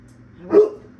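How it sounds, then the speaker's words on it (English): A dog lets out a single short, close bark in an otherwise quiet room. "She barks to hear herself bark."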